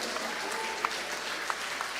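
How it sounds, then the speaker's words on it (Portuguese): A church congregation applauding in a continuous, moderately faint wash of clapping, with a few sharper claps standing out briefly above the steady noise. "Pode aplaudir a Jesus bem forte."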